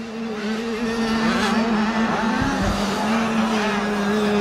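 Small-wheel 85cc motocross bikes race at a youth championship, a loud continuous high engine drone with pitch rising and falling as bikes pass, close and steady throughout.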